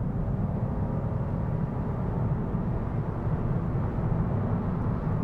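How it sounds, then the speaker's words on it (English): A 2024 Mazda2 Hybrid facelift under hard acceleration on a rural road gives a steady, loud, broadband engine and road drone that holds throughout with no talking. "I will properly put my foot down just to show you how that delivers the power."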